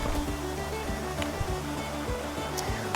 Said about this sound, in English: This is Big Wilson Creek.